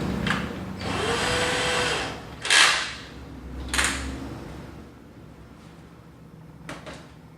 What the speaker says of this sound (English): I'm going to try drilling first.